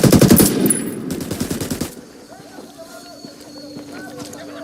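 Rapid automatic gunfire erupts loudly at the start of a Ghost Recon Wildlands firefight, a dense burst of shots lasting about two seconds, then gives way to quieter in-game ambience with a voice speaking.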